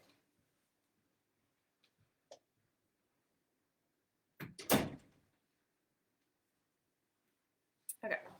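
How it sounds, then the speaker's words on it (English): A door is pushed shut indoors with a loud close-miked thump followed by a second clunk a few seconds later, after a few faint knocks, in an otherwise quiet room. "let me go shut the door really quick"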